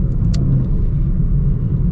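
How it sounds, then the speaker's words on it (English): A car held under throttle while driving, giving a steady, smooth low engine drone with road rumble, heard from inside the cabin and fairly quiet and even throughout. "you gotta stay in the throttle for such a long time for this car to do anything"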